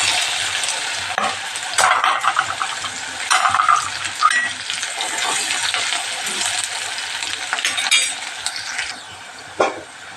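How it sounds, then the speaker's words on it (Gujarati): Onions tipped into a pan already holding ginger-garlic paste fry with a steady, bright sizzle, broken by occasional metallic clinks and scrapes of stirring, close and fairly loud throughout, while cooking lentil dal. "ડુંગળી નાખી દઈએ।"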